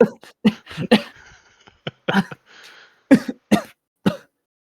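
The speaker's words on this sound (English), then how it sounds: "immediately start coughing viciously" Repeated harsh coughing fits from choking on cinnamon, loud and close, several bursts in quick succession with a brief gasping pause in between.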